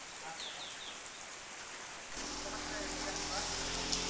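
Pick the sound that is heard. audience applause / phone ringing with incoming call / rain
rain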